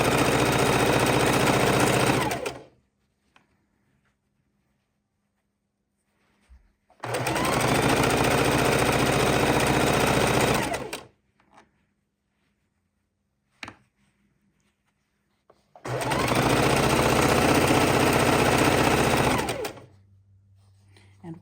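A sewing machine chain stitching quilt blocks, three loud bursts of fast, even whirring stitching, each a few seconds long, separated by quiet pauses with faint handling clicks.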